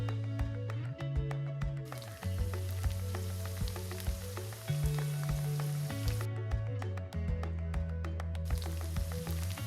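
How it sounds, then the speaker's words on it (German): Radish and carrot vegetable balls deep-frying in hot oil, a steady, busy sizzle and crackle that runs unbroken and fairly loud throughout, with no voices. "Das Bällchen ausquetschen und mit einem Teelöffel vorsichtig in das Öl anlegen"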